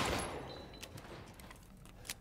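A single gunshot in Resident Evil Village, a sharp close blast with a ringing tail that fades, followed by faint clicks and a small knock.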